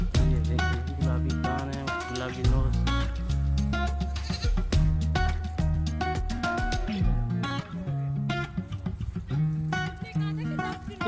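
A teddy goat bleats repeatedly in a livestock pen, with loud, wavering calls close by over a constant background din.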